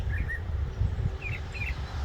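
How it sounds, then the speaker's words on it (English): Small birds chirping in a backyard near a pond, a few brief high tweets spaced apart over a steady low outdoor rumble, no talking. "sometimes I like to come out in my yard and just listen to the birds."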